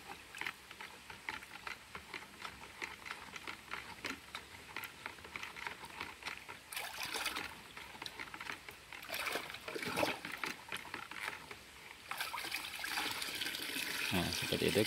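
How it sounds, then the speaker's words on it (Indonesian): Homemade liquid fertilizer of rice-washing water and rabbit urine is stirred and scooped by hand, giving repeated sloshing splashes and trickles of liquid, moderately close and continuous, growing busier toward the end. "ini kita aduk dahulu agar homogen ataupun bercampur semuanya yang tadi"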